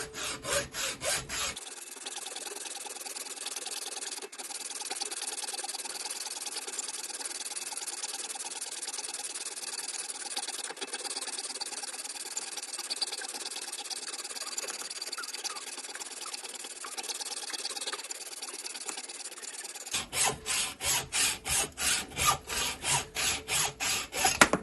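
Metal stock being cut for a lathe carriage clamp block with a continuous rasping, sawing noise close by for about eighteen seconds, then a rhythmic pulsing machine sound at the end, with no talk.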